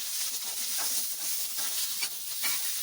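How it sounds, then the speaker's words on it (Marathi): Chopped onion sautéing in a pan for Maharashtrian misal pav, a steady soft sizzle and hiss with faint stirring scrapes throughout, moderately quiet and close, no voices. "आता हा कांदा 3 ते 4 मिनिट असा परतून घ्यायचा आहे, लाल होईपर्यंत"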